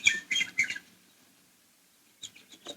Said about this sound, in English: the birds were singing